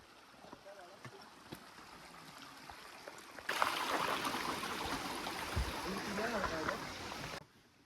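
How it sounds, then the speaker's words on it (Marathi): A small forest stream flows along the Ratangad trek in the Sahyadri hills, its soft trickle rising midway into a louder, rushing wash for several seconds before dropping back to a quieter background. "हा बघा एक ओहळ आहे त्या ओहोळचा आवाज येत होता"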